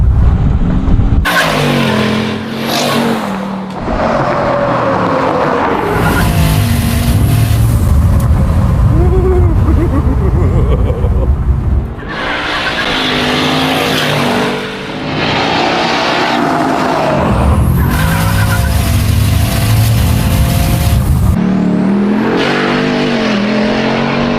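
A 1,250 hp Ford Raptor with wastegates accelerates hard and spins all four tires, giving loud roaring engine bursts with brief lulls between them, close by.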